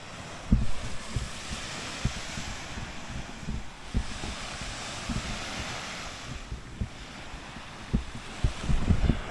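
Steady wind roars over the rush of Black Sea surf on the Pomorie sand spit, with low buffeting thumps against the microphone throughout.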